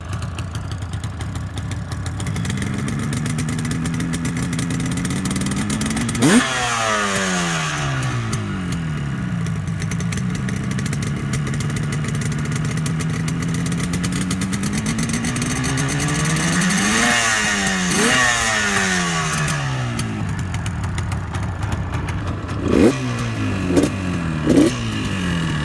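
A Yamaha RD350 347cc two-stroke motorcycle engine idles then revs repeatedly, rising and falling in pitch with several sharp throttle blips, loud and close.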